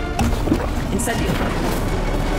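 In the Hogwarts Legacy video game, the Incendio fire spell is cast with a short fiery burst and crackle over dense, continuous game ambience and low rumble.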